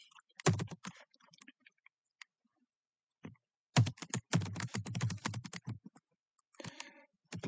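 Computer keyboard keys clatter in two quick bursts of typing separated by a pause, ending with a few lighter taps, close and clear with no voices.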